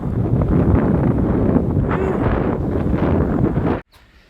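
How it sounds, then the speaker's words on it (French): Strong wind buffets the microphone on a sandy Australian beach, a loud, continuous rumbling roar that cuts off abruptly near the end. "Le vent il est infernal."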